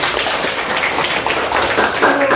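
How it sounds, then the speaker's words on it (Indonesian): Brief, scattered clapping from a primary school class mixed with voices, a short burst of applause in a classroom. "Tepuk tangan dulu."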